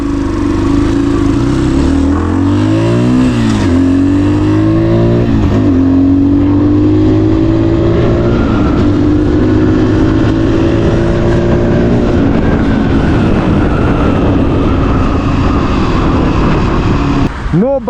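A 2026 Tekken 250 Evo EFI motorcycle being ridden, its engine loud and close, rising and falling through gear changes with a steady buzzing drone, wind noise over it and no speech.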